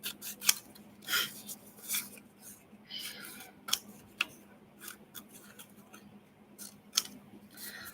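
Scissors trimming paper during handmade paper crafting of an extended pocket, a series of quiet, close, crisp snips and rustles spaced irregularly over soft room hum.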